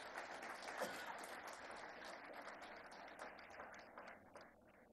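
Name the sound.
audience applause at a speech by CM Revanth Reddy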